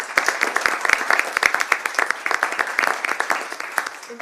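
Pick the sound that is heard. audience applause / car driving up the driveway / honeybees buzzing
audience applause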